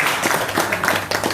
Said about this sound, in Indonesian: Nah, tepuk tangan dong.